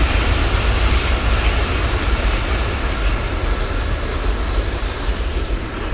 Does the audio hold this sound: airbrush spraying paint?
no